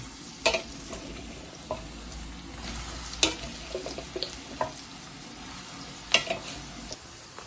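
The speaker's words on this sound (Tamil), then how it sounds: "நாங்கள் இப்போ பன்னீர் பொரிக்க போகிறோம்." Faint steady sizzling of paneer frying in oil, with occasional clinks and scrapes of a utensil against the pan.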